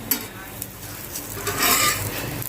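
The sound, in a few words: chapati with oil sizzling on hot tawa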